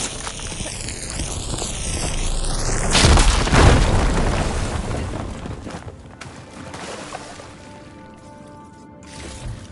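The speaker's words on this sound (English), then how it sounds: "Should be able to blow up that fire gleam." A firegleam deposit blows up in Horizon Forbidden West. A rising whine builds before a loud, deep boom erupts around three seconds, then the blast rumbles and crumbles away into quieter debris and ambience, with no voices.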